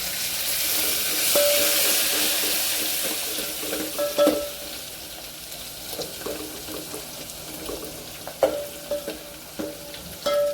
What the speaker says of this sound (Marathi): आता आपण कोथिंबीर टाकून परतून घ्यायची